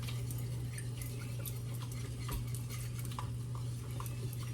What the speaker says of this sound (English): then you're going to whisk this all together